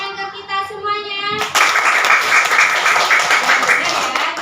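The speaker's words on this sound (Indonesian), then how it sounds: "Beri tepuk tangan ke kita semuanya." Applause from a children's class in a school lesson, a burst of clapping that starts after about a second and a half and carries on steadily to the end, with kids' voices mixed in.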